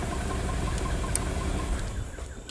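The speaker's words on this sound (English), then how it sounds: "You're hearing the vehicle is stumbling on itself, right?" A car engine with an injector circuit fault and cylinder misfire idles roughly, its low rumble stumbling and uneven with irregular knocks, heard close and alone.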